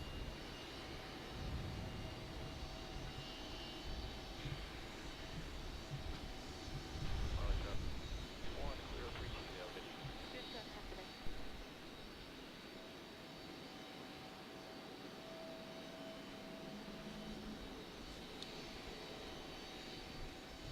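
A jet airplane at Raleigh Durham airport rumbles in a steady, moderately distant roar that swells around the middle and then fades, with people talking over it.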